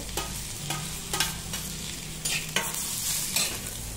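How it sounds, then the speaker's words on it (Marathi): Onion, tomato, garlic and ginger fry in hot oil with a steady background sizzle, broken by several sharp bursts of louder crackling as the spoon stirs the pan, close up and without speech. "आता आपण टोमॅटो पण टाकून घेऊयात आणि लसूण आणि अद्रक पण टाकून घेऊ, ते पण छान फ्राय करून घेऊ"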